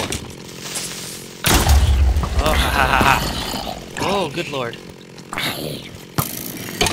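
Chainsaw in Minecraft Tekkit Lite buzzing in loud bursts, mixed with a person laughing and exclaiming over it.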